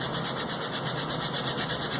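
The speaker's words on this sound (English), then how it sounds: "now I'm sanding off the high spots" Sandpaper rubbing steadily over the dyed, sealed inside of a leather tomahawk sheath, a continuous rhythmic raspy scrubbing, close and fairly loud with no voices.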